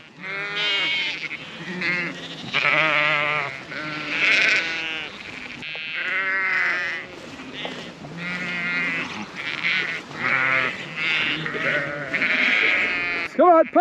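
Sheep bleating repeatedly and loudly, close by, a stuck ewe or lamb caught behind a wire fence on a farm, with overlapping calls in a steady chorus.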